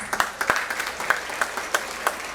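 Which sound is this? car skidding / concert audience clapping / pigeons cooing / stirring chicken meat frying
concert audience clapping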